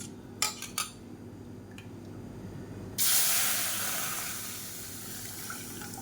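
Black kavuni rice and urad batter hitting a hot nonstick kadai, a few utensil clinks first, then a sudden loud steady sizzle that slowly eases, with no talking.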